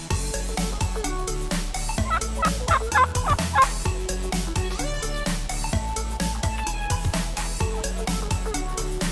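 Turkeys gobble together in a dense, overlapping chorus at Rancho San Antonio Preserve, steady and fairly loud throughout, with no one speaking.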